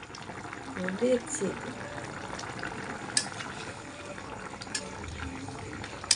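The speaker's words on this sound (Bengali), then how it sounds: "এখন জিরার গুঁড়ো দিতেছে, আর একটু জল বাড়াই দিবা।" Curry with cumin powder and added water simmering in a pot on a home stove, a soft steady bubbling hiss with faint stirring clatter, heard under a voice speaking Bengali.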